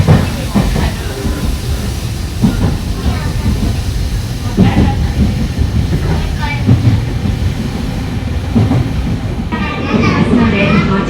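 A train pulls into Izumisano station in Osaka, with a continuous loud rumble and rattle of the carriages, rhythmic clicks and a hiss, under a recorded onboard announcement.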